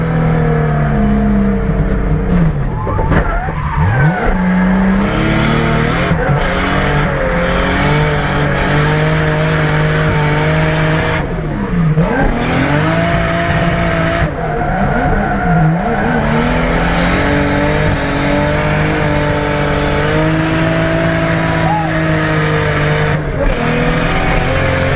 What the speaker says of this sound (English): we're trying to drift into a parking space